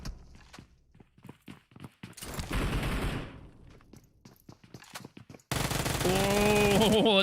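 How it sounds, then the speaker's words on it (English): Rapid bursts of gunfire in PUBG Mobile during a championship esports match, sharp repeated shots then a dense sustained volley near the end, mixed with game effects. "a little bit of pre-fire there, landing a quick few shots"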